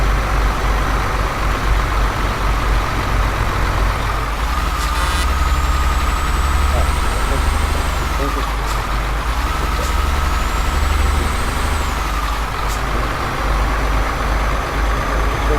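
A loud rear-wheel-drive truck engine in Euro Truck Simulator 2 drones steadily, with two rising whining tones and sharp hissing bursts like air brakes cutting through the rumble.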